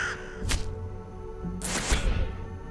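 Crows cawing in the Forbidden Solitaire video game, two distinct bursts of harsh caws about a second apart, fairly loud over a low background hum.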